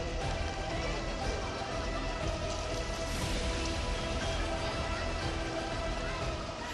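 Heavy monsoon rain during floods pours in a steady, dense hiss with constant patter across the whole span, loud and unbroken.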